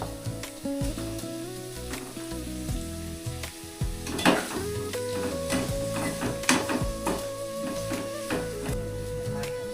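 Curry leaves crackle and sizzle loudly in hot oil, with sharp spitting pops over a continuous frying hiss and background music throughout.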